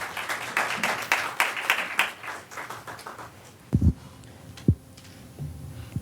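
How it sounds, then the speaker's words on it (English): A seated audience at a corporate law panel claps for a speaker, a brief round that fades after a couple of seconds into room hum and a few loud handling thumps. "So give him another round of applause while we start."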